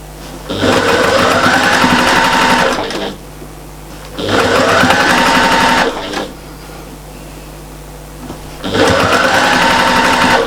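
A sewing machine stitches fabric for a patchwork and appliqué cushion in three loud, rapid, buzzing runs separated by short quiet pauses.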